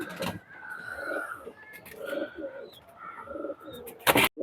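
Pakistani highflyer pigeons in a loft coo softly in low, repeated rolling calls, with occasional wing flutters and sharp chirps nearby.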